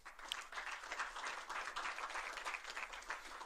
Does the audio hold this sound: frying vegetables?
no